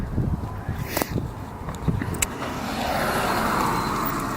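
A 1998 Lincoln Mark VIII V8 swapped into a 2002 Mustang GT runs close by with a steady rumble, broken early on by a few knocks and clatters before settling into an even idle.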